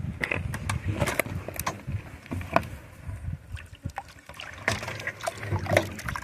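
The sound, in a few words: water poured over gravel while panning for gold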